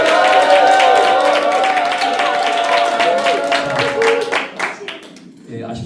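Church training-class audience claps together after a practice presentation, a steady round of applause lasting several seconds under a speaking voice, tapering off near the end.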